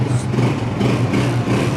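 Idling steadily up close, a Honda 125 Dream motorcycle gives off a continuous low, throbbing engine hum that stays loud and even throughout, with no revving and no voices.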